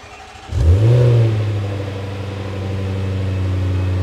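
Range Rover SVR V8 engine with a Quicksilver exhaust system fires up and revs once, then settles into a steady, loud, deep idle with a rumbling burble; no voices.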